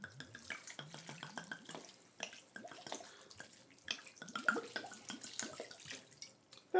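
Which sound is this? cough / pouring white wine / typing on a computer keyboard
pouring white wine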